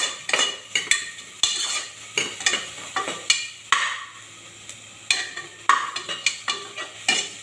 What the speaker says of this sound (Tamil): தக்காளி பழம் கொட்டிடலாம். கிளறிடலாம்.